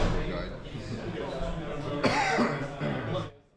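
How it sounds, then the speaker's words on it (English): A single cough sounds from the audience at a Magic: The Gathering Legacy match, a short burst partway through while people talk close by. "someone coughed in the background"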